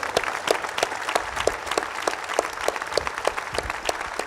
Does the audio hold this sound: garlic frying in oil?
no